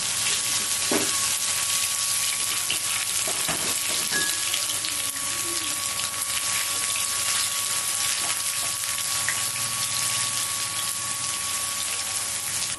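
Ginger-garlic paste sizzling in a small cup of hot oil for a chicken liver fry, a steady broadband crackle and hiss running continuously with a few sharper pops, close and alone with no talking.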